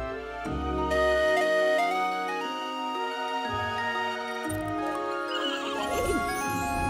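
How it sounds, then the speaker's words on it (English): Cartoon sky horses in a children's animated series neigh and whinny over a bright musical score, with faint hoof clip-clops mixed into the busy, continuous soundtrack. "Can we show the sky horses now?"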